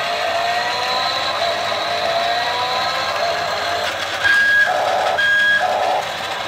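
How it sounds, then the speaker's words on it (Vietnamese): A remote-control off-road toy car, model 0133 with LED lights and sound effects, plays its reversing sound over a steady electronic engine hum, with a few short, evenly spaced beeps near the end. "Khi lùi nó sẽ có âm thanh như vậy"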